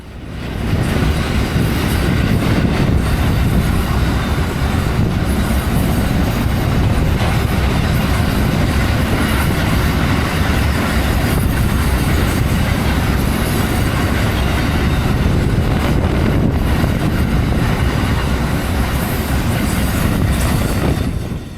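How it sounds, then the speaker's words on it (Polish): A very long freight train rolls past at close range in Australia, a loud, unbroken roar of wheels and wagons with rhythmic clatter over the rails and occasional squeals. It holds steady for over twenty seconds and no one talks. "nie miałam pojęcia, że aż tak długie pociągi jeżdżą w Australii"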